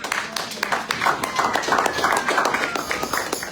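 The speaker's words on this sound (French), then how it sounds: "Applaudissez pour Jésus-Christ" Church congregation clapping in praise during a French-language sermon, a room full of hands beating out quick, uneven claps at moderate volume with a faint tone running through.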